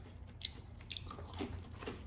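Crunchy crackers from Dutch army 24-hour rations being bitten and chewed close to the mic: a few sharp, crisp crunches at irregular intervals over quiet room background, with no talking.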